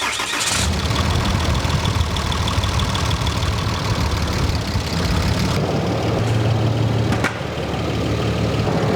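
A Cummins 6.7 diesel in a 2019 Ram 3500, just rebuilt with a solid lifter conversion, cranks and fires, then settles into a loud, close, rumbling idle that holds steady, with a brief change in tone near the end.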